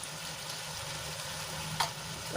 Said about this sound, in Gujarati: મસાલાને સરસ રીતે મિક્સ કરી અને થોડી વાર માટે સંતળાવા દઈશું